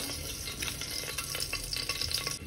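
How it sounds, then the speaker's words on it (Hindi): Whole spices frying in a small ladleful of hot refined oil in a pan over a gas flame, for a masoor dal and rice khichdi, giving a steady close crackling sizzle with light stirring throughout. "सारे खड़े मसाले इसमें डाल लेंगे एक साथ।"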